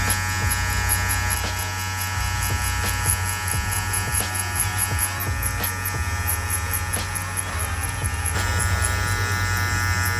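Hair clippers with the lever open and no guard buzz steadily up close, a continuous electric hum with small changes in tone as they cut through hair.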